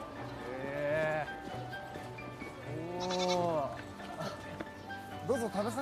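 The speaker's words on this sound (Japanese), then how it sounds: "ヤギの触れ合いコーナー。" Goats at a petting corner give several loud, close, quavering bleats spread across a few seconds, mixed with people talking nearby.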